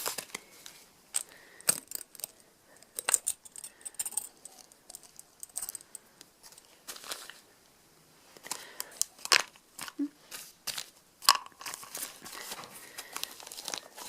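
Small pet treats go into a homemade paper or cardboard toy, making intermittent crinkling, rustling and light rattling as the pieces drop in and the paper is handled, close and fairly quiet.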